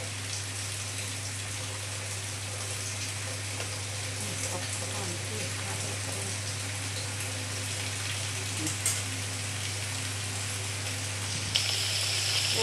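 Cooking oil sizzles in a pan during home frying, a steady, dense crackle with a low electrical hum beneath and faint voices in the background.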